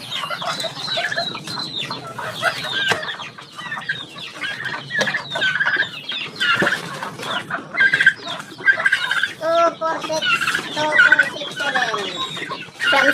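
Chickens, roosters and other fowl on a farm cluck and call steadily throughout, many birds at close range with overlapping squawks and occasional sharper cries, no one talking.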